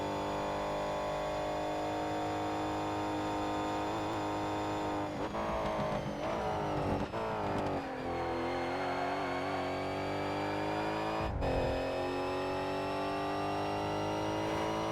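A GT race car in ToCA Race Driver 3, GT Tuning Cup, lapping a track with an unstable, loose rear end: a steady, loud engine drone that rises and dips through gear changes and throttle lifts, with no talking.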